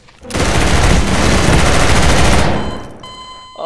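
Dense burst of automatic gunfire in a multiplayer survival video game, loud and continuous for about two seconds before cutting off into quieter game sounds.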